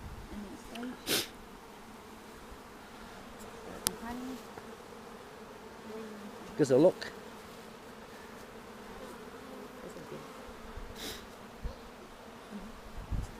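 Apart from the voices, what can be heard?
honey bees buzzing around an open hive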